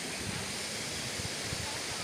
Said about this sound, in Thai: สวยครับสวยน้ำตกทิศมี